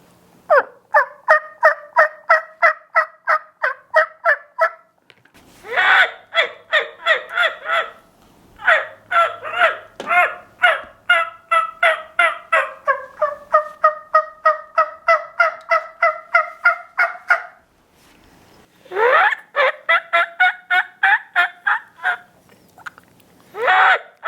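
Homemade turkey mouth call producing loud, close turkey yelps in quick rhythmic runs of evenly spaced notes, broken by short pauses between series, with no talking.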